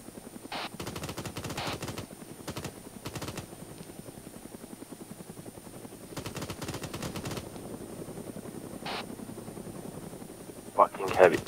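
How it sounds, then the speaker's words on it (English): Close bursts of incoming gunfire crack out in several rapid volleys over the steady thump of a helicopter, with shouted voices between the shots and a sharp, louder burst near the end. "somebody's shooting on us."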